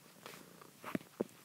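A cat purrs faintly close to the microphone in a quiet room, giving a few soft rumbling pulses over about a second and a half.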